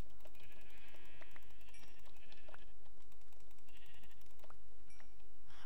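Sheep in the video game Minecraft bleat several times, short nasal calls that repeat over a quiet background with faint clicking, and no one talks.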